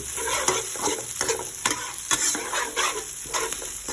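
Garlic stir-frying in a pan until golden, a continuous hot sizzle broken by regular scraping strokes of a spatula, close and steady.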